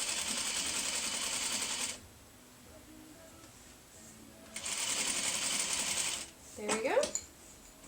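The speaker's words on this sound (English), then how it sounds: "Let's go ahead and finish our seam." A sewing machine stitches a quilt seam in two steady whirring bursts separated by a pause, followed by a few brief clicks and rattles near the end.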